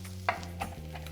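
Gluten-free crab cakes fry in a pan as one is flipped, a sharp spatula scrape followed by a quieter knock over a faint sizzle and steady low hum.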